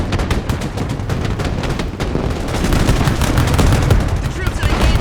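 Dense battle gunfire from the Broken Arrow military strategy game, with rapid overlapping rifle and machine-gun bursts crackling continuously at loud level, building slightly in intensity toward the end.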